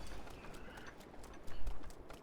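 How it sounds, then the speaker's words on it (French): Wild horse hooves clip-clop in Zelda Breath of the Wild, a quiet run of soft, irregular hoof thuds with one stronger thump near the end, heard alone. "Il y a des chevaux justement, des chevaux sauvages."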